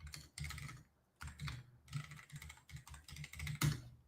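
Rapid clattering keystrokes on a computer keyboard as a command is typed into a command-line tool, coming in close bursts separated by short pauses.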